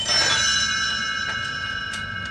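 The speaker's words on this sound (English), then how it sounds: "Tinker Bell rings her little bells like this" Bright, sustained metallic ringing with a few light chimes struck over it, close and clear, fading slowly with no voices.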